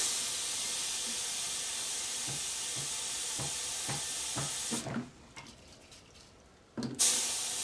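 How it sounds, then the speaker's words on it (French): A gravity-feed paint spray gun sprays thinner into a can during cleaning: a loud, steady hiss close up, with a few faint knocks beneath it, cutting off briefly before a short final burst. "Je remue et je pulvérise une quinzaine de secondes dans mon bidon."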